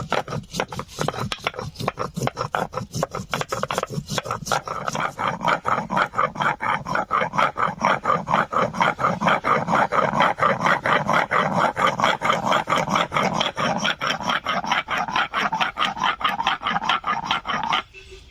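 Spices are ground with a little water on a grinding stone, a rhythmic rasping rub repeating quickly and steadily up close for the whole stretch.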